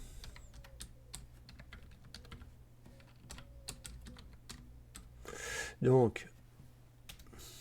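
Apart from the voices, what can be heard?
typing on a computer keyboard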